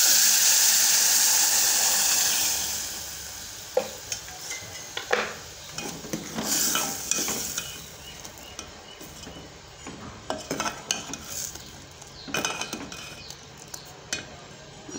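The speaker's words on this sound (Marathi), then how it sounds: "मीठ झाल्यानंतर आता गरम पाणी आपण टाकून घेऊ." Hot water poured into an elephant foot yam curry cooking in a pot makes a brief rushing splash, followed by intermittent clinks of a metal spoon stirring against the vessel, close and fairly quiet.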